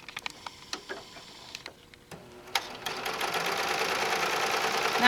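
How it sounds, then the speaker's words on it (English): A serger sewing machine starts up after a few scattered clicks and taps, then runs in a steady, close, fast mechanical whir that grows slightly louder. "Whoops, turn my serger on."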